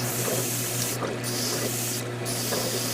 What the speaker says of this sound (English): So right now I am priming all the parts here in black